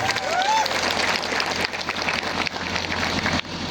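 An audience at a public event with police officers present breaks into steady applause, many hands clapping together in a dense, sustained patter.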